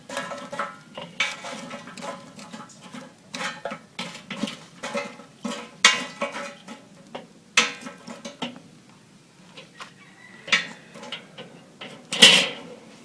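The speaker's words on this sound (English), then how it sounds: "I'm going to go ahead and spread this charcoal out a little bit." Charcoal briquettes scraped and spread across the grate of a Weber kettle grill, heard as a run of close, uneven clattering and scraping strokes with a sharper metallic knock near the end.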